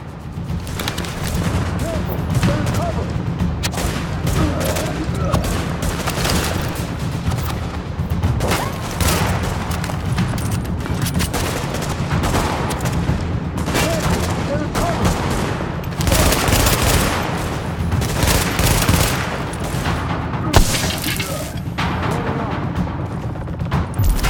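Sustained automated turret gunfire in The Division video game, a dense continuous fusillade of rapid shots with occasional heavier booms, loud and steady throughout with faint voices underneath.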